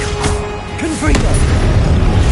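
A Confringo blasting spell goes off in the Hogwarts Legacy video game as a deep boom with a crackling burst, surrounded by combat noise and the whoosh of other spells.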